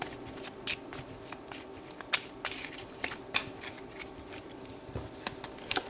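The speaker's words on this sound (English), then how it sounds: "it's easier to shuffle them this way than to try to do it the other way" A small deck of the 22 major arcana tarot cards is shuffled by hand in a series of quick, crisp riffling bursts with short pauses between them, close up and fairly soft.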